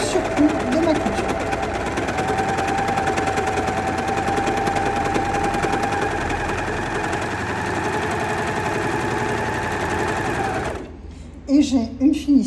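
A Singer S0705 overlocker stitches and trims fabric with a steady, close mechanical whir and buzz. It stops abruptly near the end, and a voice then speaks.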